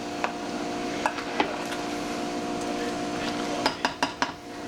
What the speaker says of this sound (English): then we're going to stir it